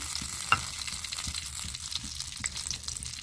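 Oil heating in a pan on a gas stove gives a soft, even hiss with a faint crackle, plus one small metallic tap near the start, quiet and close.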